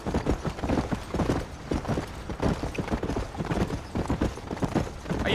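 A horse gallops in Red Dead Redemption, with rapid, rhythmic hoofbeats pounding steadily and close throughout, over a faint rustle of tack and movement.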